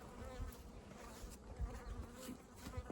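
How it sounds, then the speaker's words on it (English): A honey bee buzzes close around a beekeeper at the hives while boxes are added and queen cells prepared, its fairly faint drone wavering steadily through the whole stretch with no talking. "that bee's after me."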